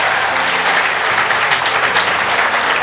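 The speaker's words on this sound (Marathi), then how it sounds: "एकदा तुम्ही तुमच्यासाठी टाळ्या वाजवा ना" Dense, loud applause from a large audience at a Marathi comedy speech, continuous and even throughout with no talking over it.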